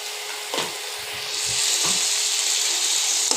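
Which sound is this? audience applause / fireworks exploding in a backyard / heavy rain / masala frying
masala frying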